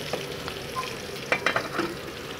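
Okra (lady finger) fries in a pan with a soft continuous sizzle, broken by a few scraping stirs near the end.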